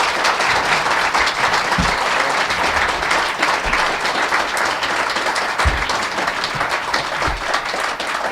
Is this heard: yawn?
no